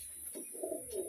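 Pigeons, including a young brood and a male, coo softly in a cramped loft, a brief low murmur of a few faint coos.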